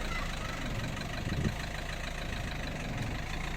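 A car engine straining on a slope during a car versus jeep climbing challenge, involving Duster and Kiger models, a steady droning hum with a slight rise midway, with faint voices in the background.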